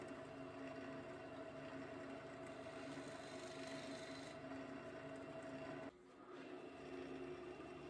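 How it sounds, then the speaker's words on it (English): A half-inch spindle gouge cuts the dovetail on a spinning maple bowl, giving a steady, close scraping hiss over the lathe's hum, broken by one short pause. "Using my 1/2 inch spindle gouge, I clean up the dovetail for the jaws of my chuck."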